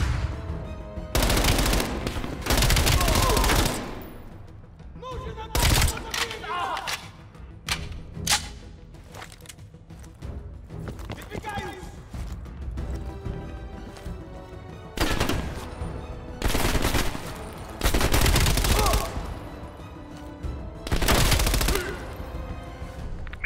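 Bursts of gunfire from the Call of Duty: Black Ops Cold War video game on PS4, several loud automatic volleys separated by quieter stretches with scattered single shots.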